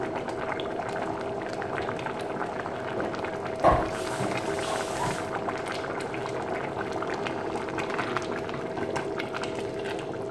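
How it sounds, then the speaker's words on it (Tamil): Traditional Pongal gravy bubbles steadily in a pot, a dense, even simmering hiss with one brief clatter partway through, no talk over it. "ஒரு கொதி கொதிச்சோடனே இறக்கிடலாம்"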